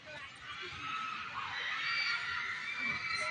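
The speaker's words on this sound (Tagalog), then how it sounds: "Sigawan doon, ah." A crowd at a provincial meet baseball game, Morong vs Abucay, shouts and cheers from a distance in a steady, fairly faint wash of voices.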